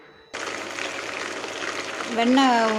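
Butter melting into ghee in a pot on the stove, a sudden onset of steady bubbling sizzle that continues and grows slightly louder, with someone speaking near the end.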